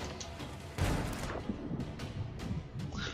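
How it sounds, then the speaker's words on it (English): Deep booming blasts of cannon fire in Sea of Thieves thud repeatedly at a distance, a few heavy impacts spread over a few seconds amid rumbling background noise. "I can hear cannon fire."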